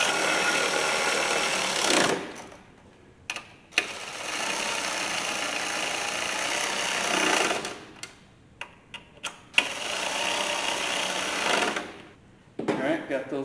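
Wrench ratcheting the starter bolts tight on a Simplicity 560 garden tractor, three long rapid clicking runs separated by pauses with a few isolated metal taps, close up.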